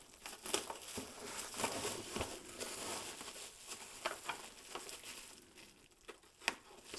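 Plastic packaging is pulled open around Studio Creations Biker Scout armor made of ABS, with continuous close crinkling and rustling broken by sharper crackles and snaps.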